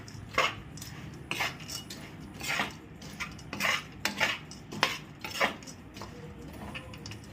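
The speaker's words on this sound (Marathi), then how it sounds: "गॅस बंद करून घेऊ आणि हे आपण चांगलं हलवून घेऊ" A spoon stirs a sweet jaggery mixture for laddoos in a pot, the gas turned off, giving a string of close, irregular clinks and scrapes of metal against the vessel with no voices.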